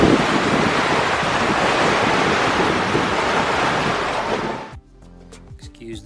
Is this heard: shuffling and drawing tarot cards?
no